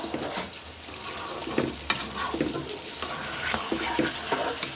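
Chicken curry being stirred and fried in a pan, with spoon scrapes and clattering over a continuous sizzle, close up and moderately loud, no talking.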